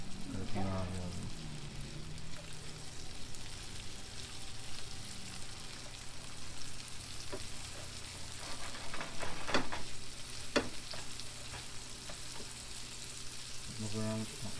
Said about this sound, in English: once you put the onions in, you're gonna give them a quick stir with the tongs